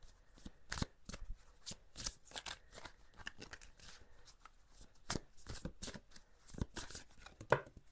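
Angel cards are shuffled for a tarot-style card reading, producing a steady run of crisp riffling and slapping bursts that are close and fairly quiet, with no talking.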